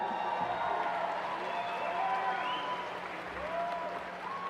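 Steady applause from a large audience at a high school graduation ceremony, a dense wash of clapping that continues throughout with faint voices underneath.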